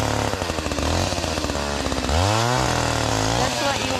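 A chainsaw roars close by in freezing weather, its engine revving up and down in loud bursts with a rising whine partway through.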